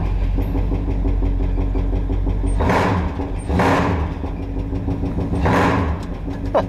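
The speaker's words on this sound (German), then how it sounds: "der klingt so, weil der Auspuff so scheiße ist." Rough-sounding car engine with a bad exhaust, idling loudly and steadily in a workshop, with three bursts of revving that rise and fall between the idle stretches; no voices over it.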